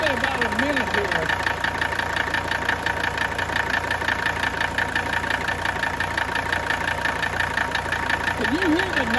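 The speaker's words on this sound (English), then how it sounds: "Can you hear the knock I'm talking about here? It's a little bit deeper knock than you normally hear just with fuel injection noise." A diesel engine idles close by with steady rhythmic clatter and a deep repeated knock beneath the fuel injection noise, while someone talks over it at the beginning and end.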